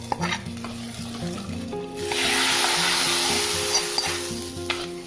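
Mustard seeds, shallots, chili and curry leaves hitting hot coconut oil in a pan, a loud crackling sizzle that bursts up midway over a soft background melody, then settles slightly while frying continues.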